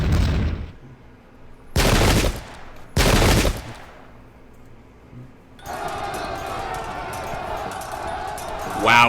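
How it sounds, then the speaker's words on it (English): Heavy guns fire in the Pike and Shot Campaigns video game, in a flintlock-era battle: three loud, separate booming blasts, each cutting off sharply, then a dense continuous rumble of battle noise. No one speaks. "Now our heavy guns are in action"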